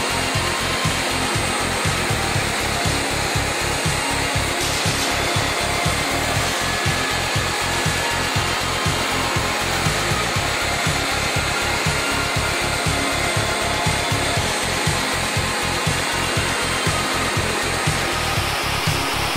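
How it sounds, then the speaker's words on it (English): A universal mill cuts the end of a wood part on a woodworking machine, giving a loud, steady machine whine with a fast, even rhythmic chatter running through the whole stretch, with no talking. "The end of a part can be milled to fit a matching house or seat cut in seconds with an efficient"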